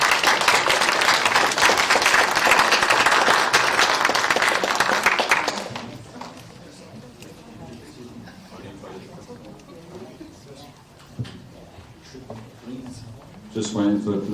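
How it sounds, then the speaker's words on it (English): Dense applause from the audience at the 2024 Peterborough AI Summit panel session fills the first few seconds, then fades as a presenter talks with light room noise. "Give him a round of applause,"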